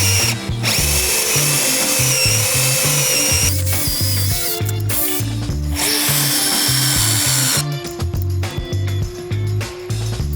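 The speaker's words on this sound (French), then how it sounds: "je vais faire donc mes deux percements. Pour ça, je vais utiliser une mèche Zobo" A power drill fitted with a Zobo bit, similar to a Forstner bit, bores into timber for a garden shed frame, whining loud and close with gear rattle, briefly dipping and restarting before running on.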